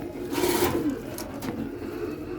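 Domestic pigeons kept as breeding pairs at home, including a silver pair, give a soft low coo early on, followed by faint rustling and a few light taps at a quiet level.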